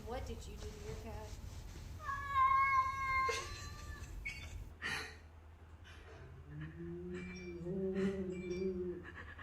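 A cat meows several times in drawn-out, wavering calls, close and fairly loud, with people talking over and between the cries.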